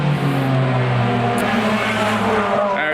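A loud, sustained engine roar comes from race cars circulating on a Japanese track's East Course during a 12-hour endurance event. The pitch shifts slightly as the cars pass nearby, and no voices can be heard.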